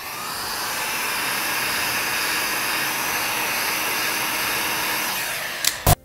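A heat gun blasts a steady, loud, close airy roar for about three seconds' worth and more while heating window tint film on glass, ending with a couple of short sharp knocks; no talk.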